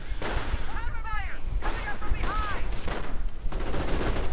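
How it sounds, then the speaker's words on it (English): Flamethrower engineers pour fire onto Panzer Grenadiers in a real-time strategy game, with bursts of flame and gunfire crackling over a steady battle din, and a voice talking over part of it. "the flamethrower engineers just keep on doing their evil incendiary job, spreading hellfire upon the Panzer Grenadiers"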